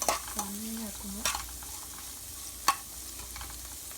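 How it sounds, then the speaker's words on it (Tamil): Onions frying and being stirred in a pan for kale sambar, a soft steady sizzle with a few scraping stirs and one sharp knock, no talking. "இப்போ பார்த்தீங்கன்னா வெங்காயம் நல்லா ஃப்ரை ஆகிடுச்சுங்க."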